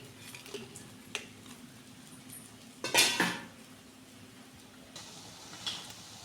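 Metal utensils clink and scrape against a pan as fried rasbora fritters are added to sugar syrup, with a few sharp knocks, one louder clatter midway and a soft background hiss.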